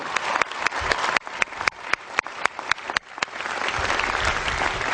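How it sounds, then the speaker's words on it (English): A commencement crowd at George Washington University breaks into applause, with sharp individual claps standing out early before the sound swells into a fuller, continuous ovation. "So let's give them another round of applause and thank you."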